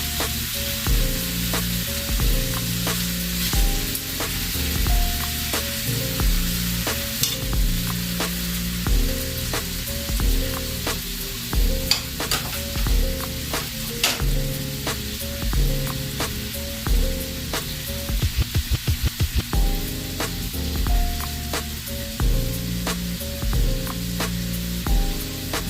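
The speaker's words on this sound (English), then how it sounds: "So what you want to do is just brown your beef on all sides." Beef browning in a hot pan for a crockpot vegetable beef stew, with a steady loud sizzle and frying crackle throughout, and repeated stirring scrapes and clinks.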